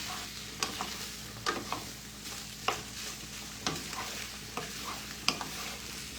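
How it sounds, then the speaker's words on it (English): Meat sizzles steadily in fat along with onion and garlic, while a utensil scrapes and stirs the pan in several sharp clacks spread across the cooking. "I wanna kind of mix this with the onion and the garlic so it can start to be cooking"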